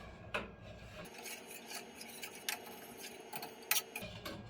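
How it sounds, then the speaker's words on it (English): Flour stuck to a spatula is scraped at over a stove, giving quiet rasping rubs and a few sharp clicks and taps in an irregular rhythm, faint and close, with no talking. "The flour on my spatula will not come off. I'm trying to get it off my spatula."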